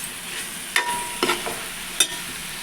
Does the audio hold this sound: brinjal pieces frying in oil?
yes